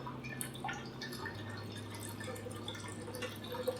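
Milk punch drips through a mesh strainer in quiet, close, irregular liquid drips and small trickles, with a low steady hum underneath.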